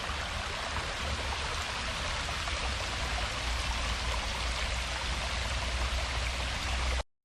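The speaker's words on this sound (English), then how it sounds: "there's a waterfall." A waterfall spills below a rock overhang on a snowy hike in Jefferson County, Kentucky, giving a steady, full rushing roar that holds constant and fairly close throughout, with no voices.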